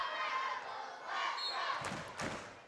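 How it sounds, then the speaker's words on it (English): Loud student crowd noise at a volleyball match, sustained cheering and shouting from many voices, swelling and then ending with a couple of bouncing thuds. "The student crowd is loud here."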